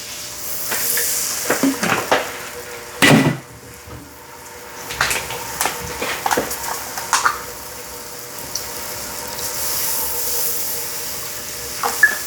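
Whole milk pours into a hot pan for chicken fried steak gravy, bringing a steady sizzle and bubbling with scattered spoon-and-pan knocks and scrapes, close and fairly loud.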